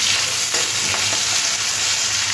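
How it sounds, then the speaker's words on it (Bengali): Onion fries in hot oil tempered with Bengali five-spice, a continuous loud close sizzle with a few soft stirring scrapes and no talking. "হালকা করে ভেজে নেব।"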